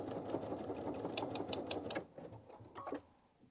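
A sewing machine stitches Bobbinworks onto a bag, a fast rhythmic mechanical whirring with clicking needle strokes that runs for about two seconds, then slows to a few scattered stitches and stops.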